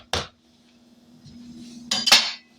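Mashed bananas for banana bread are scraped from a dish into a large mixing bowl, giving a few sharp clinks and knocks of utensil on dishware separated by a quiet soft scrape.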